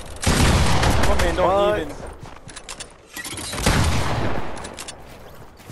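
Rapid gunfire sprays in Fortnite, with loud bursts of automatic shots in two main stretches separated by a brief lull, while a player talks excitedly over the shooting.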